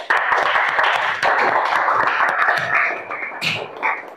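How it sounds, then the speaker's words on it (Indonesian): Classroom applause breaks out at the end of a group presentation in a teaching-practice lesson, a steady patter of many hands clapping for about four seconds, close and fairly loud, fading slightly toward the end. "Beri tepuk tangan."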